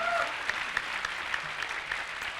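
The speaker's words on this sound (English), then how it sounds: "Let's give him a very big, heartfelt, love-filled round of applause." Sustained audience applause at an International Yoga Festival at Parmarth, a steady wash of many hands clapping at moderate distance with a few sharper claps standing out, continuing throughout without speech.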